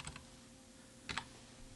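Values typed on a computer keyboard: a few soft, quick key clicks, with a short pair near the start and another pair of taps about a second later, against a low steady hum.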